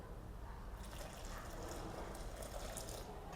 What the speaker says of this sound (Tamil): நல்லா கொதிக்கிற தண்ணி அதில் விட்டுடலாம்.